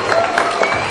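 An audience applauds a visiting karate school at a school event, with brief dense clapping and crowd noise, fairly loud, and some voices mixed in.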